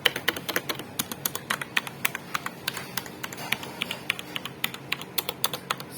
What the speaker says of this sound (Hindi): साउंड इसका मैकेनिकल कीबोर्ड जैसा नहीं है, लेकिन ये मैकेनिकल कीबोर्ड ही है।